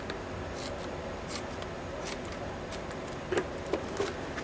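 Scissors snip at the edge of a foam latex mask in a few faint, soft cuts, close by over a steady background hiss.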